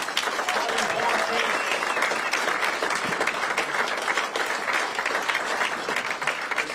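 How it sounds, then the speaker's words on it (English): A crowd at a gubernatorial campaign concession event breaks into sustained applause for the team co-chairs and supporters, dense clapping that stays loud and continuous throughout. "Let's give our team co-chairs and supporters a round of applause."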